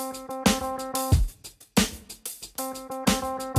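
Recorded guitar chopped into short rhythmic accents for a beat, with choppy stabs and sustained chordal bursts separated by sharp cuts and brief gaps, played alone.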